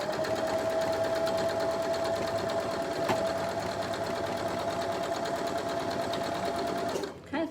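A sewing machine runs steadily up close, stitching a quarter-inch seam on a quilt block with a continuous fast mechanical whirr that stops abruptly near the end.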